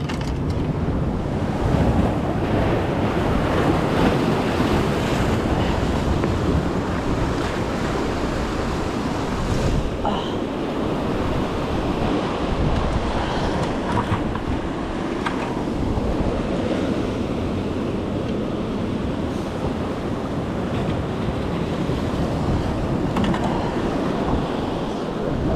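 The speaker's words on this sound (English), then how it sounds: "Waves getting stronger." Ocean waves surge and wash against a jetty on the San Diego coast, with steady wind buffeting the microphone in a continuous, loud, close roar and no voices.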